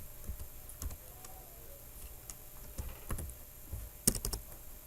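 Typing on a computer keyboard, quiet irregular key clicks and taps in short bursts, close and soft.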